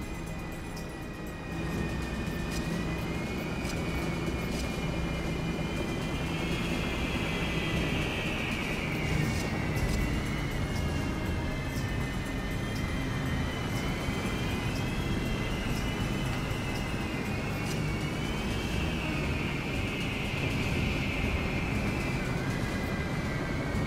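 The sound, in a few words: enemy bomber aircraft, from video game Battalion Wars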